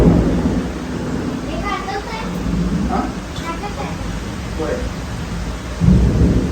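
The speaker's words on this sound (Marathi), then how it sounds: "विजा नसत्या तर हा पाऊस सुंदर वाटला असता" Heavy rain pours steadily while thunder rumbles low in the background, with a stronger rumble near the end.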